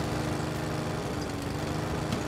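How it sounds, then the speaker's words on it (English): A lawn mower engine drones steadily while mowing grass, a continuous mid-distance hum with no break. "Mowing the grass."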